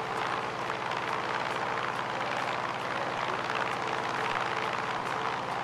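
A steady, dense drone from the engine of an F6F-5 Hellcat fighter plane in Microsoft Flight Simulator, cruising over the Hawaiian islands. It holds even and loud throughout, with a faint rushing wash over it and no voices.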